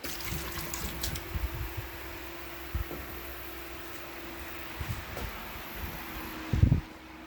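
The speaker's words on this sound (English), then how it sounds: "So I'm just going to get a little bit of water, because if it's messed up and gonna leak, I don't want a whole ton of water to be dumped out." Water trickles and pours softly into a kitchen sink to test a newly fitted basket strainer for leaks, a faint steady wash with small splashes and clunks, no voices.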